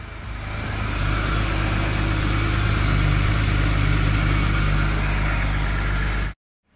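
A 2006-era BMW E90 engine idles while warming up, a steady, loud, close low hum that holds constant for about six seconds and then cuts off abruptly.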